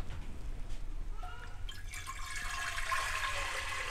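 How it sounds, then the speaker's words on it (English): Water is poured into a new pressure cooker while preparing Naga-style pork leg. A gurgling fill starts partway through and grows into a bright, splashing stream over low background rumble. "I'm pouring some water."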